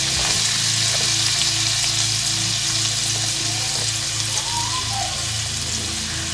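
Medium onion, finely chopped, frying in melted butter in a pan, giving a steady close sizzle that runs without a break and with no talk over it.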